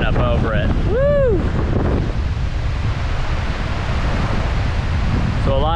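Hurricane Ian winds roar and water surges over a seawall in a Florida garden, a loud, constant rushing wash with buffeting wind noise and a few whooping vocal sounds near the start.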